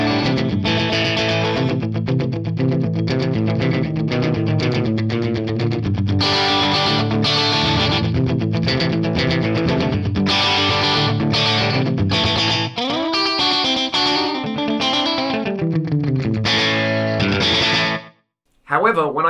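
Distorted electric guitar runs through a slapback delay effect, playing continuous riffs and bends up close with a short echo trailing each note, ending in a brief pause.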